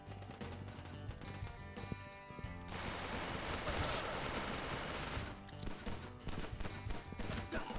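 Rapid automatic gunfire from a KRISS Vector in the online shooter game Aim Online, with dense, loud bursts that run almost continuously and grow heavier through the middle.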